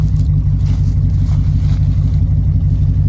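A rare Ford GT muscle car engine idles loud and steady, with a strong, even low rumble held for the full few seconds and no voices over it.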